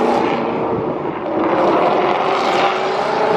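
A supercharged Mustang fitted with a Procharger kit pulls away, its engine and blower roaring as a broad, steady rush that dips briefly and then swells again, heard alone without talk.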